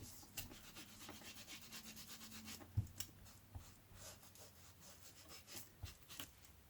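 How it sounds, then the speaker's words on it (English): Soft, steady rubbing of an ink pad dabbed along the edges of paper tags backed with book pages, close and quiet, with a few light taps and scuffs throughout and no talking. "Just going to ink a little."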